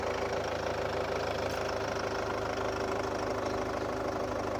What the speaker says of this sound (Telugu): సింగిల్ సెల్ఫ్లో అయితే స్టార్ట్ అవుతుంది బండి.